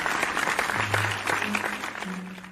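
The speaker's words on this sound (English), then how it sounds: "let's give a round of applause for Caillou" Applause for Caillou in a cartoon classroom, a dense burst of clapping heard up close and running the whole time, with voices briefly sounding over it near the end.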